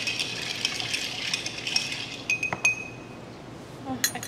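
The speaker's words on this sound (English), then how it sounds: "Just going to stir that up just a little bit." A bourbon cocktail stirred in a glass with a spoon, giving a steady swishing of liquid and ice under soft clinks, then a few sharper, louder clinks of metal against glass near the end.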